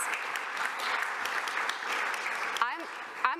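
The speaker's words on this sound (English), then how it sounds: "Please join me with a round of applause to welcome our speakers." A conference audience at the Munich Security Conference 2022 claps to welcome panel speakers, a steady, fairly soft round of many hands, with a person's voice and laughter breaking in near the end.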